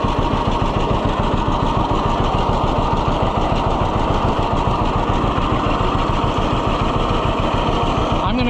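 A small engine on hay-cutting equipment idles steadily after an idle needle adjustment, a loud, even, fast putter that holds close and constant throughout.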